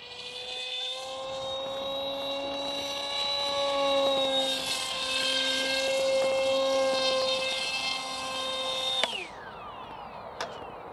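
A Modster Easy Trainer 1280 RC model airplane flies overhead, its electric motor giving a sustained tonal whine that swells and shifts in pitch before the throttle cuts sharply near the end.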